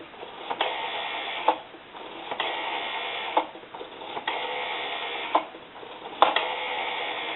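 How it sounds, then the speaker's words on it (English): A Kellogg Red Bar rotary dial wall telephone's dial spins back again and again, each return a steady mechanical whir with sharp clicks, close and alone. "We have a nice smooth return on our rotary dial."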